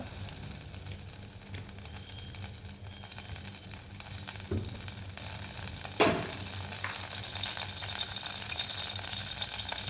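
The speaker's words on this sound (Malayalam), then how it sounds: "പാത്രം ചൂടായിട്ട് അതിനകത്തേക്ക് നമുക്ക് അല്പം വെളിച്ചെണ്ണ എടുക്കാം" Coconut oil sizzles in a hot pan while a vegetable bread roll is being made, a steady close hiss with a few sharper clinks and crackles partway through, rising slightly toward the end and heard without speech.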